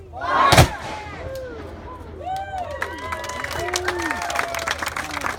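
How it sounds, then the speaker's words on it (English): A single loud cannon salute blast on Mackinac Island booms out near the start, followed by scattered crowd noise and talking as the echo fades. "Cannon salute to all"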